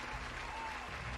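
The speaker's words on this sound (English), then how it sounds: "You all suddenly hear the audience, the live audience applauding" A live audience at an improvised tabletop role-playing show applauds, a dense, steady wash of clapping throughout.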